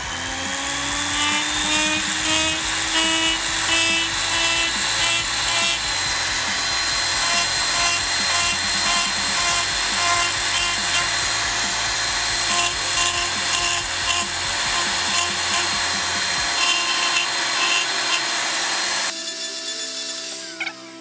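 A power carving tool with a round burr grinds into wood, giving a loud, steady, high-pitched whine with gritty rubbing texture that runs continuously up close, then cuts off near the end.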